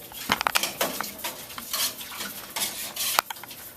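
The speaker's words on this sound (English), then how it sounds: "You gotta get a nice consistent stir." Food scraps are stirred in a pot with a spoon, giving irregular close scraping and clinking strokes over a soft crackle, with no talk.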